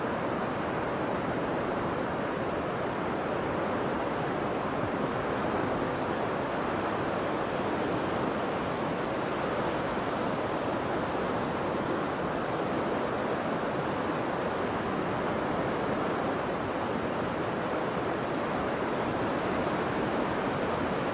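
Rough sea surging onto the shore at Kolka in Kurzeme, Latvia, a steady broad roar of breaking surf with wind noise that carries on without pause for the whole stretch.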